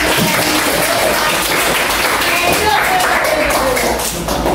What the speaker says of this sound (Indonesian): beri aplaus untuk kawannya